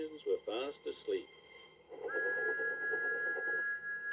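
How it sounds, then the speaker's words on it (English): Thomas the Tank Engine's whistle sounds as a steady, sustained toot lasting a couple of seconds, clear and fairly loud, following a stretch of narration. "Thomas's whistle soon woke them up."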